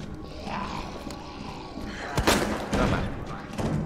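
Gunfire in Resident Evil 2 Remake, a couple of sharp heavy blasts with booming tails amid a low rumbling game soundscape, fairly close, with a voice briefly heard.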